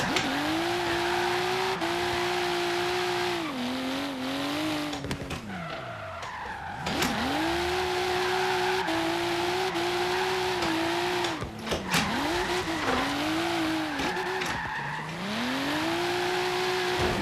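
Race cars in a driving video game rev and hold steady engine tones, broken by several sharp tire squeals and skids as the car spins among heavy traffic, loud throughout without talking.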